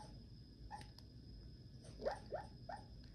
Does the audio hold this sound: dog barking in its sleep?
yes